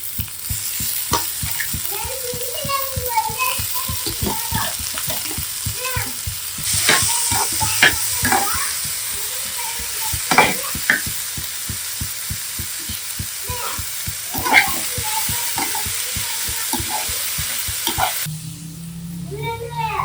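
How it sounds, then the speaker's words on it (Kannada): Fresh boiled beans tossed into a golden fried onion tempering sizzle steadily in the pan while a spoon scrapes and stirs in quick, rhythmic strokes, close and clear with no voices. "ಈಗ ಬೇಯಿಸ್ಕೊಂಡಿರೋ ಕಾಳನ್ನ ಒಗ್ಗರಣೆಗೆ ಹಾಕ್ಬಿಡ್ಬೇಕು"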